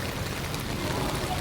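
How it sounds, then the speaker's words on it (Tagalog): Heavy rain pours steadily over a flooded city street in Parañaque, a dense, even wash of water noise with faint traffic or boat-like rumble beneath and no clear speech. "patuloy pa rin ang paglakas ng ulan guys"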